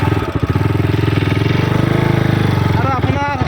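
A motorcycle engine runs steadily and loudly up close in a rural field setting, a throbbing, pulsing idle with slight revving throughout.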